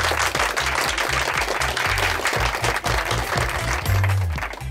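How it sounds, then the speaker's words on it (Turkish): Office workers applauding together, a dense burst of clapping hands that runs steadily throughout at close range, with a few voices mixed in. "Niye alkışlıyorsunuz?"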